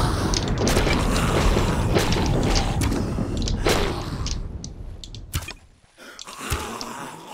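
Bow shots in a Minecraft PvP survival-games match: a string of sharp twangs and thuds over a busy game mix, clustered through the first half, then a few sparser hits after a brief lull.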